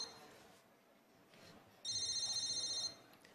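A telephone rings once in a loud electronic burst lasting about a second, following quieter moments in an indoor comedy sketch scene where people talk.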